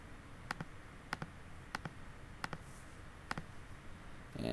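Computer mouse clicks while placing points on a toposurface in Revit: about five quick paired clicks, sharp and close, spaced roughly evenly over steady low background hiss, with no talking.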